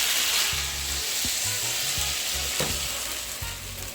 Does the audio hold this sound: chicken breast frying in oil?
yes